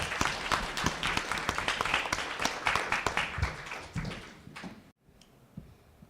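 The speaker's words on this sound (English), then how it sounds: "Caden, let's give him another round of applause." Audience applause at a school board meeting, a burst of clapping that carries for about five seconds and then cuts off abruptly, leaving a quiet room with a few stray claps.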